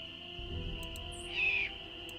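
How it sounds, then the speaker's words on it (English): A bird call from the Nancy Drew: Ghost Dogs of Moon Lake video game rises as a brief, shrill whistle over a steady outdoor ambience, fairly faint and heard alone without any talking. "Maybe that was a bird."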